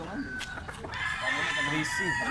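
A rooster crows at a chicken market, with clucking and other fowl sounds around it and people talking nearby, all in a short close-up burst.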